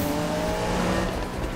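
Tyres squeal under a drifting car in Need for Speed, a continuous high screech over engine roar that holds steady through the short slide.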